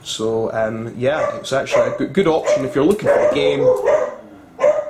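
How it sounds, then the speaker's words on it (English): Dogs bark in the background during an unboxing of a board game, a few quick yips and bow-wows partly masked by someone talking steadily over them. "Sorry about the dogs."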